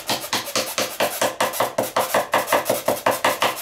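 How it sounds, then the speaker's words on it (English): Rapid, steady metallic tapping of a screwdriver hammering a clip into a Karcher pressure washer, about five strikes per second, close up and fairly loud, with no talking. "I can hammer it in a little bit with the screwdriver."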